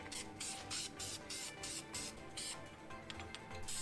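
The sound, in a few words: spray painting engine block with VHT engine paint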